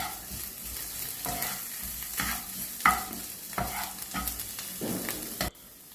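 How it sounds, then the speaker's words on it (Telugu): A spoon scrapes and stirs onions with ginger-garlic paste frying in a pan for egg rice, a series of distinct stirring strokes over a soft, continuous sizzle. "తర్వాత తిప్పాలి."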